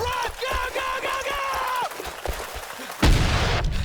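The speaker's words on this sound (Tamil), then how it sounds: "போச்சு, வெடிச்சிருச்சு." A loud explosion erupts late in combat gameplay from Ghost Recon Future Soldier, a sudden heavy blast with rumbling decay after a stretch of tonal game sounds, scattered gunfire-like thuds and some speech.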